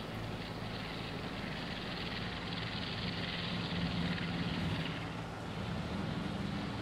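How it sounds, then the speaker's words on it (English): A helicopter in the Farming Simulator 22 farm game passes overhead as a continuous, even rotor and engine drone that holds steady for several seconds with no talk. "here come the helicopter again"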